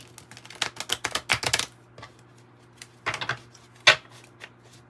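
Quick bursts of crisp riffling and flicking of a tarot deck, two clusters of rapid snaps separated by brief pauses, close and clear.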